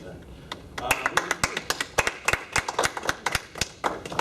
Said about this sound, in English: You got more applause than Sam did